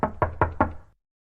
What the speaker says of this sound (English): Who is knocking on the door?